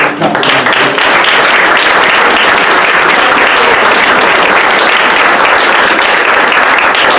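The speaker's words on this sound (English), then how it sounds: "I just want to get a big round of applause for Ranu, Sinha, and Vanessa Littleton" Loud, sustained applause from a large crowd, steady and dense throughout, with no pause.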